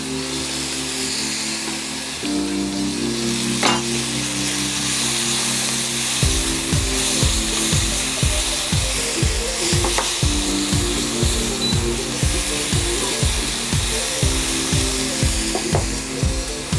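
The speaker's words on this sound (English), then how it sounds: "time to get the garlic, the ginger in, and obviously" Garlic, ginger and chilies stir-frying in a wok for a beef and broccoli dish, a steady loud sizzle with rapid rhythmic scraping and tossing strokes running throughout, no talking.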